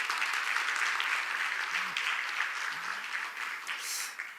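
Audience applause after a lecture at a Jeju forum, a sustained even patter of many hands at moderate level, with a couple of faint voices murmuring underneath.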